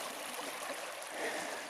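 A small brook flows in the woods, making a soft, steady trickling hiss with no voices.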